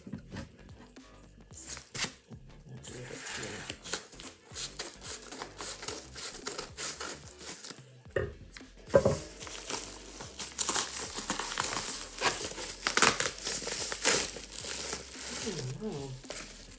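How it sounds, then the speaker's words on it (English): Package holding the Vicious Darling eyeshadow palette being opened and unwrapped: close, continuous crinkling and tearing of wrapping, rustling in bursts that grow louder in the second half, with no talking. "let me open this package up"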